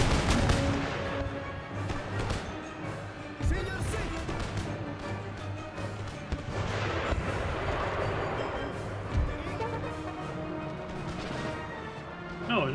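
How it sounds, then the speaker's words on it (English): Mortar and artillery fire crash and boom throughout a battle in Empire: Total War, with repeated loud blasts and impacts over a dense, continuous din of gunfire and battlefield noise. "Now you're under mortar fire."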